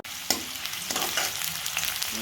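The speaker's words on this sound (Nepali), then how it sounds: "तेल तात्यो, अब यसमा म हाल्छु जिरा पछि हाल्छु।" Cumin seeds sizzling in hot oil in a pan for upma, a bright crackling burst that starts suddenly and keeps fizzing with a couple of stirring scrapes, close and without speech.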